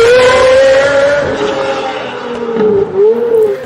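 A V12 engine fitted with a single revolver-style header joining all twelve cylinders into one exhaust revs loudly and close up, giving a high, smooth wail that rises, eases off, then climbs again in sharp blips.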